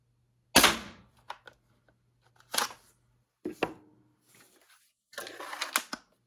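A 3D-printed bolt action toy gun prototype is worked and fired, giving a few sharp, close snaps spaced about a second or two apart, each followed by brief rattling mechanism clicks, with no talk.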